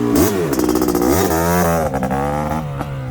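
A Suzuki Quadzilla LT500R ATV engine, jetted slightly rich, revs hard after a clutch dump. Its loud, close exhaust note rises through repeated pitch sweeps as it accelerates, with a faint sputter near the top.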